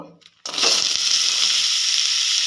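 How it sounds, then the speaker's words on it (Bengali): Potatoes hitting hot oil in a wok after cauliflower has been fried, a sudden loud burst of sizzling that stays steady and dense to the end, with no talk. "ফুলকপি ভেজে তুলে নেবার পরে আমি আলুটা দেব"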